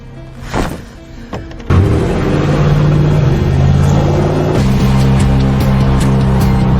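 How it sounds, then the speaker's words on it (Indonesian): A car engine revs and drives steadily in a cold setting, a loud continuous mid-pitched drone that starts abruptly after a brief quieter passage and holds at high level, with a shift partway through. "Eve berkendara sendirian mencari Ella dan markas sekte"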